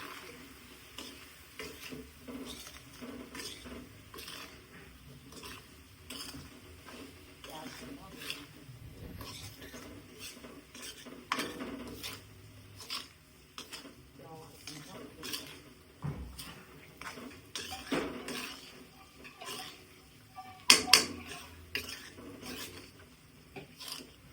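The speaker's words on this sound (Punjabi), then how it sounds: "ਸਾਰੀਆਂ ਚੀਜ਼ਾਂ ਨੂੰ ਚੰਗੀ ਤਰ੍ਹਾਂ ਮਿਲਾ ਦੇਵਾਂਗੇ" Grated carrots being stirred together with dry-roasted, ground spices and coriander powder for a homemade carrot pickle, giving soft scraping and rubbing sounds against the bowl, intermittent and close, with occasional sharper clinks and a voice talking at times.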